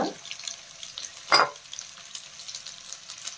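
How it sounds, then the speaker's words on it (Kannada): Ginger, green chillies, mint and coriander frying in a pan for chicken chops, with a soft sizzle and two short bursts of stirring or scraping, close and fairly quiet. "ಕೊತ್ತಂಬರಿ ಸೊಪ್ಪು ಇದನ್ನೆಲ್ಲ ಚೆನ್ನಾಗಿ ಫ್ರೈ ಮಾಡ್ಕೋಬೇಕು"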